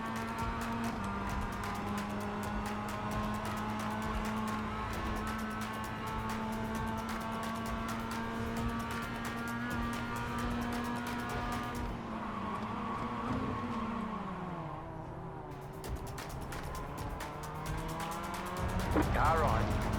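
In the iRacing sim racing game, race car engines drone steadily and rise and fall in pitch, with tire squeal and other cars passing close by, while a voice talks over the whole clip.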